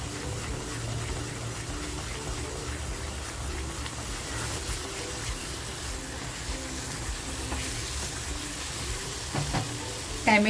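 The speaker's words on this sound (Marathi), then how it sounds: "आता हे आपल्याला छान फ्राय करून घ्यायचंय" Rawas fish masala with homemade spice mix and a little turmeric sizzles and fries steadily in a pan, a continuous close crackling hiss throughout with no talk.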